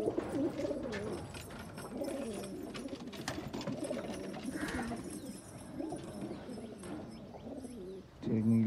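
Breeding pair of pigeons cooing close by, a continuous soft, throaty warble of rolling coos, quiet and steady throughout.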